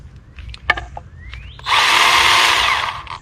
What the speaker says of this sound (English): This is what's called a mini chainsaw.